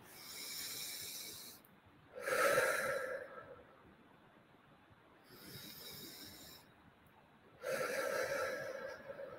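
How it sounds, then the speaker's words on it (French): Deep, powerful breaths during a guided meditation, three slow breathing cycles with breathy rushing inhales and exhales, close and fairly quiet, separated by pauses. "je vous invite à prendre 3 respirations assez puissantes qui nous permettent de venir se reconcentrer"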